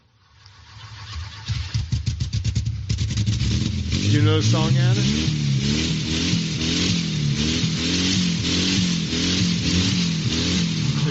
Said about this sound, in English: They rev the engine.